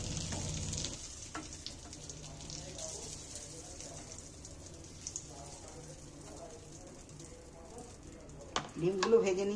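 Eggs frying in oil on a gas flame sizzle quietly and steadily at close range, with a brief louder clatter near the end; speech is present.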